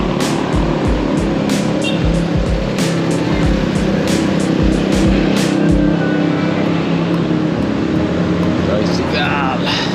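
A motorized tricycle passing on a busy morning street, its engine droning and rising close by amid traffic, with a person talking over it.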